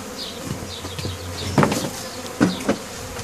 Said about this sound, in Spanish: Y todavía queda un resto aquí más de abejas.